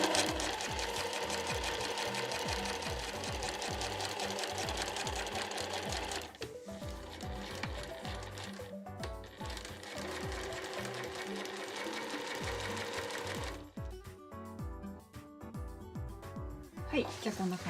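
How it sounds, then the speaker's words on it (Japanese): Sewing machine stitching fabric along the edge for a backpack, a rapid rhythmic needle clatter running in bursts with short pauses, close and fairly quiet, with a voice faintly talking at times. "ここを布の端に合わせて縫っていきます"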